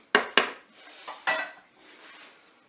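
A spoon stirs spaghetti and penne inside a Cookeo multicooker pot, giving two sharp metallic clinks up front, then softer scraping and a third knock, all close and alone without talk.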